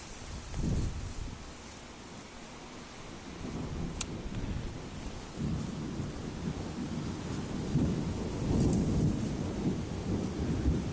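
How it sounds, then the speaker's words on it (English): Deep rolling thunder rumbles through a heavy rainstorm at night, heard from a second floor, with low booming surges over a constant hiss of pouring rain. "With the thunder, you can really actually feel the ground vibrating"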